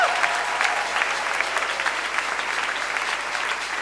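A church congregation applauds loudly and continuously, a dense sustained clapping that fills the room throughout with no voices standing out.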